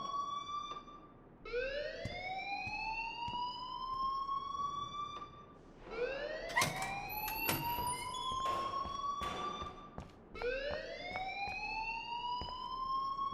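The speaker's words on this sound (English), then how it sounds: "please turn off that alarm since that's your job" An alarm ringing in the video game Life Is Strange: rising, siren-like electronic whoops repeat about every four seconds, steady and fairly loud, with sharp clicks and clatter between sweeps and no talking.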